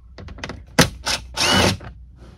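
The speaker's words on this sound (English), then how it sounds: "I've taken most of these bolts out. I just have one more left." A bolt being worked loose from a cabin panel on a 2018 Freightliner truck: a few short ratcheting clicks, then a sharp clunk, a second rattle and a longer rasping burst of a power tool, close and fairly loud.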